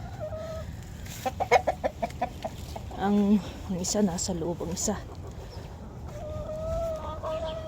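A rooster and two young hens penned together, clucking in a run of short, repeated calls with a longer cackle in the middle, close by, while someone speaks over them.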